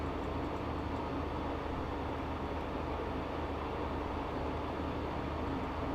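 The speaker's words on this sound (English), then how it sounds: "So I can drive the new measurement train from London to" A new measurement train runs at night on the London to Oxford line in a train simulator game, giving a steady, continuous low rumble and rolling drone throughout with no talk over it.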